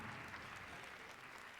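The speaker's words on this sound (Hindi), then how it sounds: "मैं चाहती हूँ एक बार आप इनके सम्मान में जोरदार तालियां बजाएं" Audience applause for a poet at a Hindi poetry recital, a steady, dense clapping held at an even level through the moment with no voices over it.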